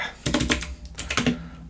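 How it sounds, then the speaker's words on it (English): Typing on the keyboard of a Ruertu E-ink notetaker, a short burst of close, crisp key clicks in an uneven rhythm with a brief pause in the middle. "But going back to the typing experience."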